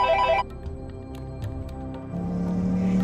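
A telephone rings during a call, a brief electronic ring tone at the start followed by low background noise and a steady hum, close and moderately loud.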